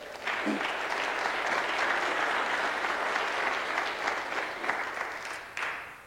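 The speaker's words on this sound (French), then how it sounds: "Alors bravo, on peut l'applaudir" Audience applause at a Jeunes Démocrates student quiz tournament between Collège Jean-de-Brébeuf and a cégep, sustained steady clapping from a roomful of people that holds for several seconds before tapering off.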